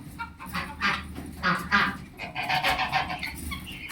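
Several bird honks and quacky calls in quick bursts, fairly close, over a low steady background hum.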